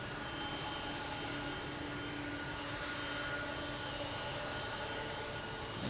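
A Delta Airlines Boeing 767 jet at Lisbon Airport makes a steady, broad engine roar at moderate distance. The sound holds evenly throughout with a faint high whine above it and no voices.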